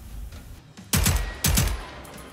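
Submachine gun fire in the video game Generation Zero, two loud close bursts of rapid shots a moment apart, each followed by a brief decay, over faint background ambience.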